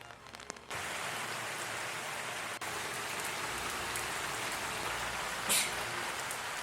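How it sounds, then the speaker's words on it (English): Steady, dense rain pouring down, a continuous broadband hiss that fills the whole stretch after a brief quieter start, with a few louder splashes. "And it was raining a lot at this point."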